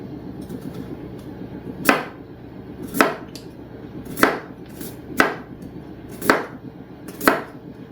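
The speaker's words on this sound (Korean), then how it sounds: "그리고 당근은 이제 좀 채를 썹니다" A knife cuts carrots into thin strips on a cutting board, landing about six sharp, evenly spaced chops roughly a second apart, close and distinct with no talking over them.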